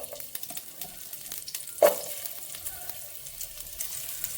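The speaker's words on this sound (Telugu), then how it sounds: "షాజీరా కొంచెం వేసుకొని దీన్ని బాగా ఫ్రై చేసుకోవాలి" Shahjeera frying in oil in a pan makes a soft continuous sizzle with light crackles, close by, and one sharp clink of a utensil partway through.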